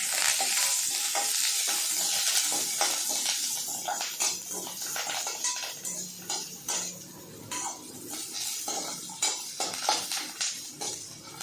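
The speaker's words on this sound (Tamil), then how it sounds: "சின்ன வெங்காயம், பூண்டு, கருவேப்பிலை, வரமிளகாய் இதெல்லாம் போட்டு தாளிச்சிக்கலாம்." Cumin, shallots, garlic, curry leaves and dried red chilies tempering in hot oil, a loud steady sizzle and crackle with scattered stirring clinks of a spoon against the pan and no talking.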